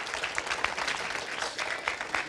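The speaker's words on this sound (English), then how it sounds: "I think a round of applause for our 3 seniors." Audience applause in a university chapel for three seniors, a moderate wash of many hands clapping with slight swells, no speech over it.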